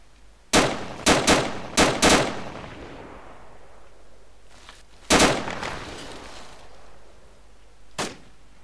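An M249 machine gun firing in the video game Arma 2, loud short bursts of rapid shots with sharp cracks and echoing tails, a cluster of bursts early, one mid-way and a fainter one near the end.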